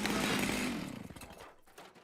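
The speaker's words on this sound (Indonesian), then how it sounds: "Aku tidak bisa mendengarmu di tengah suara mesin gergaji ini" A cartoon chainsaw from a TMNT episode roars loud and continuous, then winds down and sputters out near the end.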